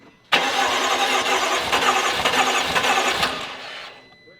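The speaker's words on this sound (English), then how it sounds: "It's not starting because the fuel pump's disconnected, so it won't fire" A BMW F10 M5 twin-turbo engine with a built motor cranks steadily for a few seconds with a rhythmic whirring churn, never catching because the fuel pump is disconnected, then winds down and stops.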